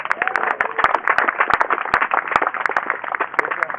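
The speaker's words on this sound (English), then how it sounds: "Give yourselves a round of applause." An audience claps at a talk held at an outdoor event, with a dense, ragged patter of many hands and occasional sharper individual claps, fairly close and continuous throughout.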